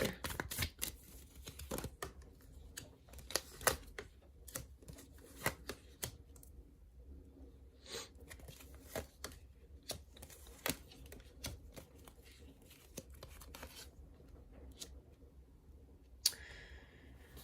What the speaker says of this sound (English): Let's pull out a few more cards and see though.